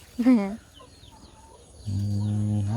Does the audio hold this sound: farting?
no